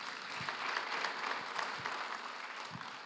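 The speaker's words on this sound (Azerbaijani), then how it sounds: "xahiş edirəm, alqışlayın" Applause from an audience at a 90th jubilee ceremony, a fairly distant, even patter of many hands clapping that holds steady throughout without speech.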